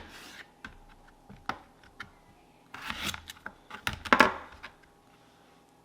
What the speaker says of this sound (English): I'm just going to cut them in fours like this.